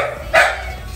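A pitbull puppy gives a single short, sharp bark close by, rising out of a quiet room and fading quickly.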